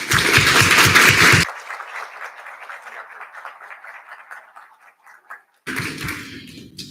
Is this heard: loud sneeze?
no